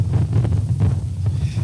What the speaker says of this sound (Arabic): خلينا ثواني صمت بس نحترم الرياح دي